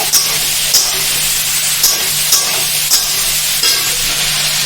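Ginger paste sautéing in hot oil for sago khichdi, a loud steady sizzle with several brief scraping stirs of a spoon against the pan, close up and without speech.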